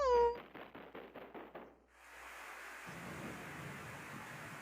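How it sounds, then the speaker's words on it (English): A thunderstorm in the Ace Attorney video game begins with a rapid series of close, rolling thunder claps, then gives way to a steady rush of rain. A short cat-like cry opens the sequence. "Oh, it's a stormy night."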